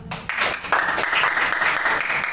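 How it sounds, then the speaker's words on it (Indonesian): A classroom of students at a junior high school clapping together, starting sparse and swelling into brisk, steady applause that fills the room for a couple of seconds. "Oke, tepuk tangan."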